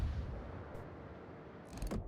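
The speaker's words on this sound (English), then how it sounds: "Torpedo hit." A torpedo strikes a ship in the naval combat game World of Warships, a dull heavy boom rumbling low under continuous battle noise, with a sharper burst near the end.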